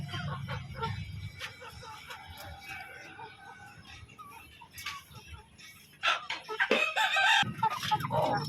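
Several chickens cluck and squawk close by at a market in Mindanao, with a rooster crowing, busy overlapping bird calls and faint voices in the background.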